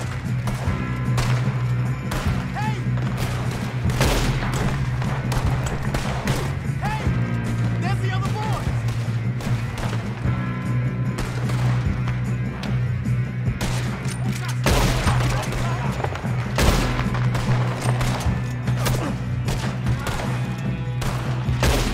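Gunfire from Red Dead Redemption 2 crackles in bursts and volleys nearly throughout, over a steady low hum and game action, with a voice talking at times.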